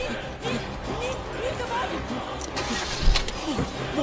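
Jeep engine cranking and catching amid a frantic chase scene, a mid-range motor rumble under urgent shouted voices with a sharp thump near the end.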